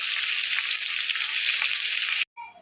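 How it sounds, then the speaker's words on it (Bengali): Chicken pieces fry in hot oil with a loud, dense, continuous sizzle that cuts off abruptly near the end, leaving a brief fainter crackle. "আমার মাংসটা কিন্তু খুব চমৎকারভাবে ভেজে নেওয়া হয়ে গেছে"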